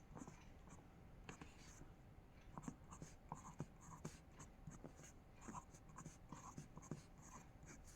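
Pen or marker writing quickly by hand, jotting a table of binary values for flip flop states, producing soft, irregular close scratches and taps over faint background noise.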